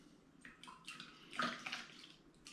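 Water poured into a pour-over coffee maker, a quiet trickling splash in short uneven bursts, faint and close, with no talking.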